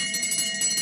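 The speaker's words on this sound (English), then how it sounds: "One lap to go, the bell being rung." The official Tour de France bell rings for the final lap of a race, a short run of rapid metallic strikes with a bright sustained shimmer.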